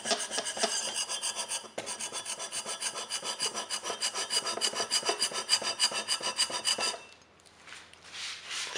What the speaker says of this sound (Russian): и заодно проверить наш шабер в деле